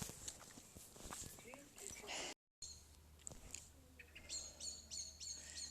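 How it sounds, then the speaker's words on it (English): Blackbird and swifts singing outdoors, a mix of fluting song and high thin repeated calls scattered through the clip, moderately near, with a short gap of silence partway and faint rustling steps beneath. "Actually, I think they are swifts after all. Well, that one's a blackbird."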